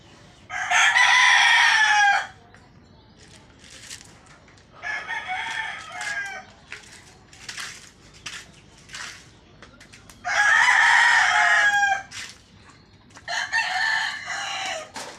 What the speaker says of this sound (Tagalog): Yan po guys, yung kanyang mga alagang manok.